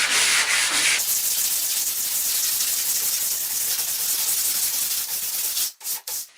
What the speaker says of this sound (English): the sandpaper on the block and clean up the top edge and the small radius